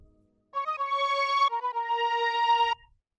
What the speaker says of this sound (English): that really cool violin type of sound, and it's actually a string from Leno synth sample pack, and I just play in the piano roll with it